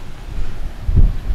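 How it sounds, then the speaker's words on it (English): Strong wind buffets the microphone on an island beach, a loud low rumbling roar with a heavier gust near the end and no talking. "I don't know if y'all can hear me over the wind"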